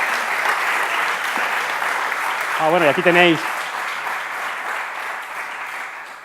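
An audience at the VLCTechFest 2019 tech talk applauds in a steady, even wash of clapping that keeps going throughout, while someone speaks briefly over it partway through.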